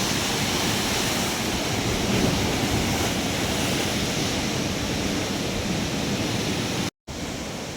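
Sea waves at the Vettakkada cliff in Varkala, a loud, unbroken roar of surf with wind rushing over the microphone, continuous for several seconds before a brief dropout.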